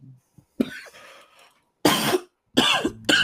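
Several harsh coughs close up, a few quick bursts separated by short silences, with a faint throat noise at the start.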